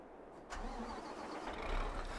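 A New Holland forage harvester in Farming Simulator 22 fires up with a quick crank, then settles into a low, steady rumble at modest volume with no talking.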